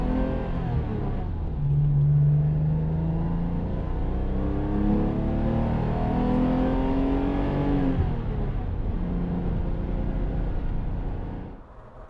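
A 1985 BMW M635CSi with low mileage drives past, its engine revving up through rising and falling pitches, fairly close and steady before fading away at the end.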